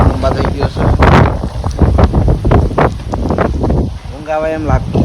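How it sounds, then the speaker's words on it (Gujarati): Strong, gusty wind during a sudden night storm in a Gujarat village roars and buffets the microphone in loud, uneven bursts, with a brief voice-like tone near the end. "કારણ કે તો બહુ પવન છે"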